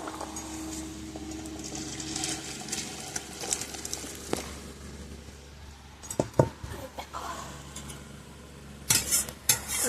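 Fish curry poured out of a cooking pot in a home kitchen, with stirring scrapes, soft sizzle and utensil clatter, a few louder knocks and splashy bursts toward the end.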